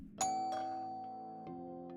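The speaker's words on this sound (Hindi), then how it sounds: "उसने बूढ़ी औरत की घंटी बजाई। घंटी की आवाज हल्की और कमजोर थी, मानो वह तांबे की बजाय टिन की बनी हो।" An old woman's faint, tinny doorbell chimes once with a bright ding followed by a softer dong, thin ringing tones decaying quietly in a hushed room.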